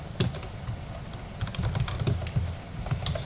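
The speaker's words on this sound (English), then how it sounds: "click on the screen and start typing" Fingers type steadily on a computer keyboard, giving a close, continuous patter of clicky keystrokes with a few heavier taps. There is no talking.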